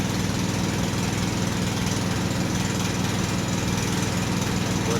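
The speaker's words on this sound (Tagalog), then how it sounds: "At yan yung ating motor, hinihigop na mga kabady." A motor pump draws palm oil while a delivery is unloaded, running as a loud, steady engine drone with an even, fast pulsing throb and no letup.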